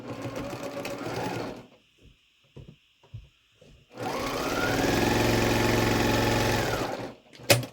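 A sewing machine stitching quilt blocks together with a 1/4 inch seam allowance, first in a short run, then a few brief taps and starts, then a long steady whirring run up close before stopping.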